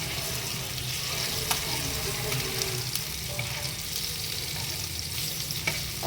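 Fish pieces fry in a pan after being flipped, a steady, even hiss of hot oil with occasional faint ticks and pops, close and unbroken, with no voices.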